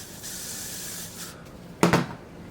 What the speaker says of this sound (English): I can spray it with some Got2b spray, so it like don't transfer